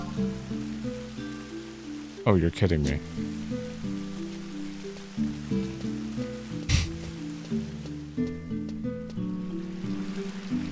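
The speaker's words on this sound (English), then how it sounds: "Raining." Rain falls in the video game Final Fantasy XI, a soft continuous patter beneath looping game music, with a brief spoken reaction partway through.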